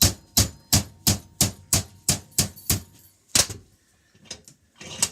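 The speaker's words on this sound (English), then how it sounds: "I just simply take a hammer and I bend them over 90" Nails clamped in a vise are struck repeatedly with a hammer to bend them over, producing about ten sharp, evenly spaced metallic blows, close and loud, followed by a pause and a few softer knocks.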